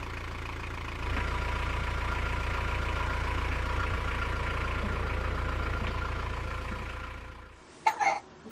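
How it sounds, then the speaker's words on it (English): A brand new inboard sailboat engine idles steadily at a low, even rumble, running close by for about seven seconds before cutting off, followed by a couple of brief knocks. "The engine purred like a cat."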